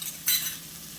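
Zucchini noodles seasoned with garlic powder are stirred in a pan, a single brief scrape and clink of a utensil over a faint sizzle, close by and without speech.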